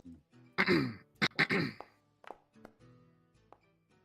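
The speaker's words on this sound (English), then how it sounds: "You hear coughing coming from near you." A person coughs and clears their throat nearby, several harsh close bursts in quick succession followed by quieter scattered hacks.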